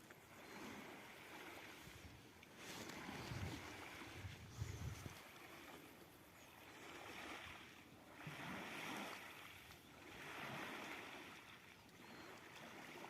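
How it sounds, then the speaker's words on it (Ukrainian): Sea waves at Kazantip, heard from high on a clifftop, rise and fall in slow, soft swells of surf with a faint wash of wind between them. "Слушайте море."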